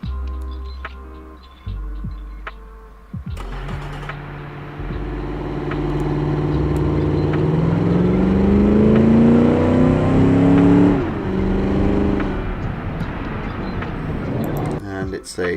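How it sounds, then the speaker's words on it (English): A race car in the Automation car-building game accelerates around a track, the engine rising through several gears with climbing whining pitch, loud and close, swelling to a peak before easing off. "So let's see how fast it'll go around the track."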